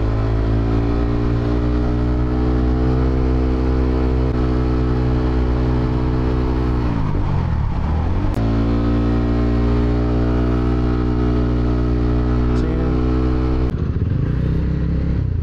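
Motorcycle engine hums steadily while riding through busy road traffic with cars around Alaminos, Laguna, a loud, close drone that dips briefly midway as if easing off, then resumes.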